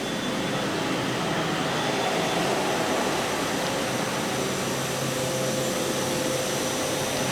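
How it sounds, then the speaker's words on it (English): Steady broadband whirring of a workshop cutting machine milling two halves of a whistle headpiece, a continuous even drone running throughout at moderate level with no talk. "this machine here is actually cutting 2 halves of a headpiece"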